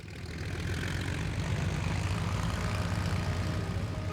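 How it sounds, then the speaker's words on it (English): A replica Vickers Vimy bomber drones overhead, its propeller engines giving a steady low roar that swells slightly and holds at a moderate distance, with no voices. "This replica Vimy shows how far the bomber developed in 4 years."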